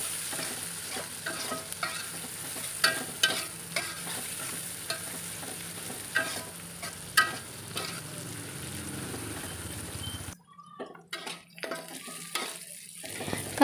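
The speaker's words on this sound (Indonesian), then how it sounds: "Lanjut aku tumis-tumis kembali sampai benar-benar layu." Jengkol stir-fries with black pepper and spices in a pan, cooked until wilted: a continuous sizzle with frequent scraping and clinking stirs, dropping away near the end to quieter, sparse crackles.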